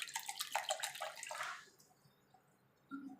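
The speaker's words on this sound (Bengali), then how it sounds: "এর মধ্যে দিয়ে দেবো অল্প করে জল।" Water poured in small amounts into a blender jar for a Bengali buttermilk drink, a short bright splashing trickle that stops after about a second and a half, then near silence with a faint clink.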